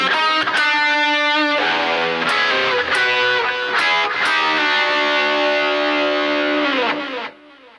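Heavily distorted electric guitar plays a song intro, a dense run of sustained, shifting notes with sharp picked attacks, loud and continuous for several seconds before cutting off at the end.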